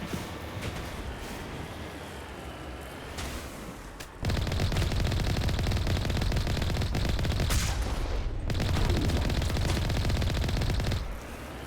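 Sustained automatic gunfire in a Mass Effect battle against snipers, a dense rattling barrage that grows louder midway and continues nearly unbroken for several seconds before easing off.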